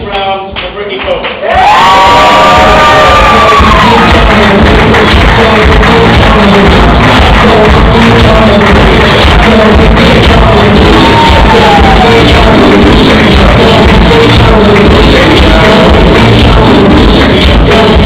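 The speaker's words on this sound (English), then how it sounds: "give a big round of applause for three beautiful women" A bar audience roars with cheering, whooping and applause at a staff roast, bursting in after a short quiet opening and staying loud and continuous, with shouts and yells rising above the clapping.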